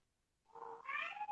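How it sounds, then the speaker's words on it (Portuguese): A single cat meows once, a short rising-then-held cry heard clearly and close, with no other sound around it. "gatinho"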